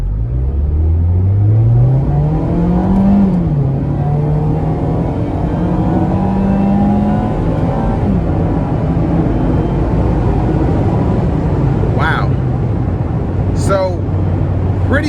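A 2019 Mazda MX-5 Miata accelerates hard in sport mode, its engine note climbing loudly through the revs with a shift partway through, then settling into a steady cruising drone, heard from inside the car.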